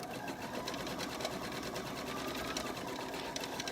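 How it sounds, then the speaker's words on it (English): A sewing machine runs steadily, stitching the pocket top seam of a children's t-shirt dress, a continuous close mechanical whir with rapid needle clatter and no talk. "now let's sew our pocket top seam here"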